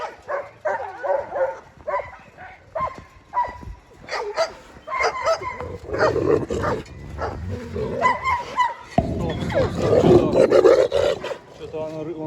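An Arctic wolf hybrid growls and snarls in bursts, close and fairly loud, mixed with rustling and someone talking to the animals over the rumbling.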